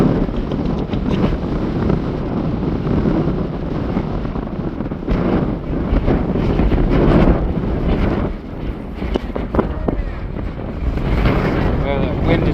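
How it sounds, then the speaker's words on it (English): Strong wind gusts buffet the microphone on a forest walk on Assateague Island, a rough, uneven roar with bursts of louder rushing throughout. "the wind is really picking up"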